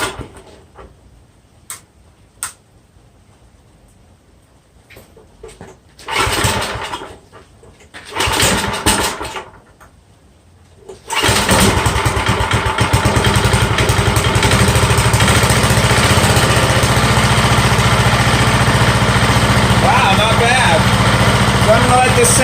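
A track drive snow blower's small engine is pulled over with a few sputtering tries, then catches and settles into a loud, steady idle that runs on without a break.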